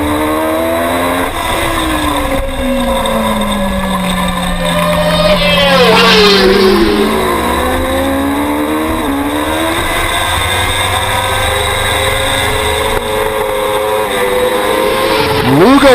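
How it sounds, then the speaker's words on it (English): A racing motorcycle on a road-racing circuit heard from a distance, its engine note rising and falling as it works through corners, steady and fairly loud throughout, with a higher-pitched whine swelling near the end. "you can hear Mike Pond on bike 27 exactly 1 mile away"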